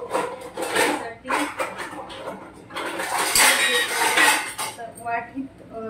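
Milk kheer ladled from a cooking pot into a serving bowl, with clinks of spoon and metal dishware in clustered bursts, the ladling sound steady midway, moderately close.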